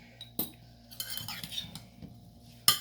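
Utensil mixing fried white chana chaat in a bowl with chaat masala, giving scattered clinks and scraping strokes, with a sharp clack near the start and another near the end.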